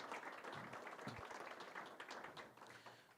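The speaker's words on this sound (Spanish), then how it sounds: "ofreciéndole también una vez más un fuerte aplauso para él." Applause from a crowd, dense clapping sustained for a few seconds before tapering off, heard at a distance and fairly quiet.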